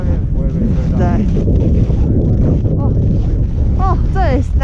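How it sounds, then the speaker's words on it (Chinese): Strong wind buffets the microphone at the top of a ski slope at Shiga Kogen, Japan, a loud continuous roar with whistling gusts, while people talk over it. "那这个风一直在吹。"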